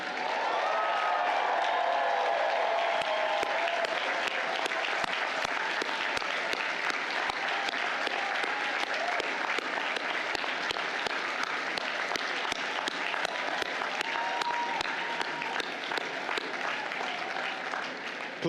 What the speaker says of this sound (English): Now, you applaud the people who helped you get here today.